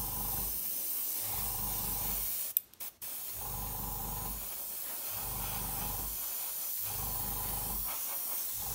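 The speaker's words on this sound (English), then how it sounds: "Still 17 psi, works really well for me, and spraying this particular paint." Continuous airbrush hiss at 17 psi spraying Humbrol paint over an Airfix Hawker Hurricane model kit in long bursts, with short pauses between passes and a brief dropout near the middle.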